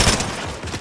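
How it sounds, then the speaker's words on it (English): Rapid gunshots in a shooter video game, a quick loud burst of close shots packed together in under a second. "Dang, you's blasting out shots, bro."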